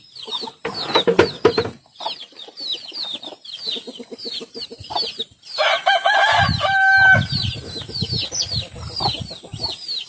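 A rooster crows several times amid clucking hens and other farmyard fowl, close and loud, with overlapping calls throughout.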